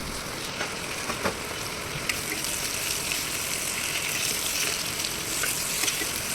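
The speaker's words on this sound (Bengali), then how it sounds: "আর তার সাথে এবার অ্যাড করব আমরা কেটে রাখা টমেটো কুচিগুলো।" Chopped tomatoes fry with spices in a pan for a chicken dish, giving a soft, even sizzling hiss with a few faint clicks, fairly quiet and without talk.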